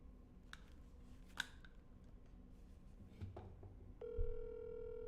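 Phone line during a call, faint clicks and rustles followed by a steady, sustained dial tone that starts abruptly and holds to the end.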